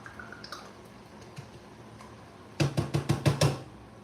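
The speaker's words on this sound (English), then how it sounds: "I'm gonna pour in there." Liquid from a second can pours into a cooking pot for turkey and dumplings, heard as a quick run of close, wet glugs and splats after a quiet stretch.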